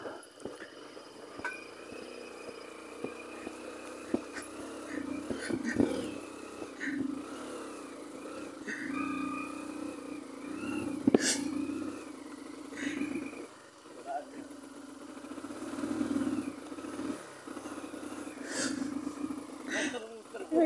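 A motorbike engine strains up a hill road near Udhampur, revving and labouring with rising and falling pitch and uneven surges, fairly close and loud throughout.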